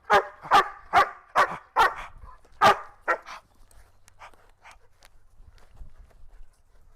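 Harley, a dog in bitework training, barks loudly and close in a rapid series of about seven sharp barks, then quieter whimpers and small yips follow, with faint shuffling steps.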